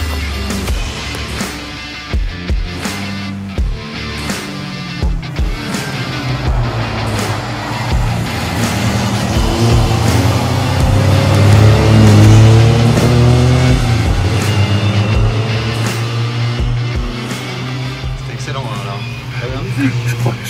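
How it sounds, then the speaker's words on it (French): Cars passing along a road behind a spot where bees pollinate flowers, a steady low traffic rumble rising and falling as vehicles go by, swelling near the middle, with people talking over it. "avec les voitures qui passent derrière"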